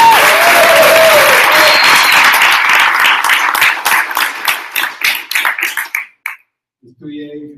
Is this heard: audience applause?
yes